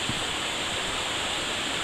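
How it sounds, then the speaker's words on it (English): Black Brook runs beside a forest trail on the way to Bondcliff and Mount Bond, giving a steady, even rush of flowing water that holds at a constant level throughout, with no voices. "Follows a brook, Black Brook I think."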